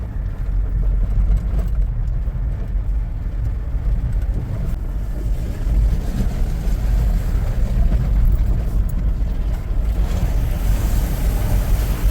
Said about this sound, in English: So check this out, we've got the Fink River running.